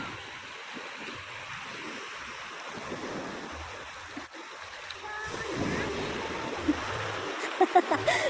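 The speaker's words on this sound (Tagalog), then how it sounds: "Natakot ka sa alon?" Waves wash and splash along a shore in a steady broadband rush, with faint voices mixed in.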